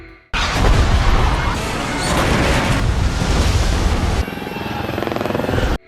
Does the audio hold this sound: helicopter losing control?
yes